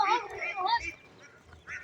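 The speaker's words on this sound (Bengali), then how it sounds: "হাঁস আর এখানে হাঁস আর হাঁস নদীর ব্রিজের নিচে" Ducks under a river bridge, giving several loud, close, nasal quacks in quick succession, then a shorter quack after a brief pause.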